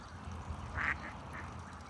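Young geese calling from a pond in New England, a brief cluster of soft squeaky calls midway through against steady faint outdoor background noise, no talking.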